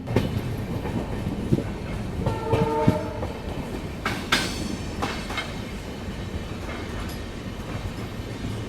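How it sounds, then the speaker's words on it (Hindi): A meter gauge train runs through Junagadh junction with a rumbling, clattering roll, a short horn blast partway through and scattered clanks, heard close with no talk. "ये जो छोटी लाइन की ट्रेन आपको दिख रही है ये चलती है यहाँ से एक अमरेली के लिए भी, दिलवाड़ा के लिए भी"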